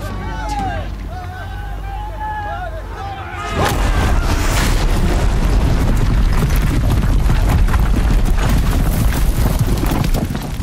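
Heavy guns boom again and again in a battle from the video game Horizon Zero Dawn, loud and close, a dense barrage that kicks in a few seconds along over a noisy crowd of shouting fighters.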